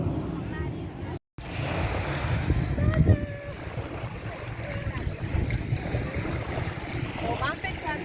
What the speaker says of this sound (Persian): ما همچنان تو ساحلیم